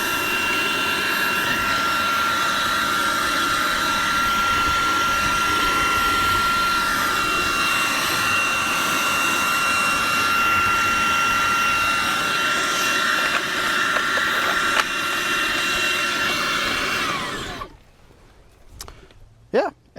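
A Skil Slim Vac handheld vacuum runs with its brush attachment, giving a loud, steady whining motor drone that lasts about seventeen seconds before switching off, followed by brief faint clatter.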